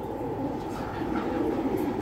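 Racer pigeons cooing in a loft, a low continuous murmur of soft coos with a steady background hum, fairly close and with no speech.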